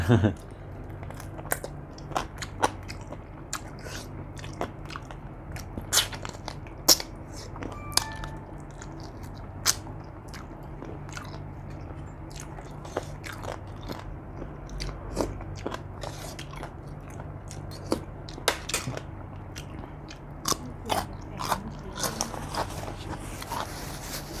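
Someone eats Thai rice noodles with coconut curry and chicken feet close to the mic, producing sharp, irregular crunching bites and chewing clicks that repeat throughout, with soft background hum.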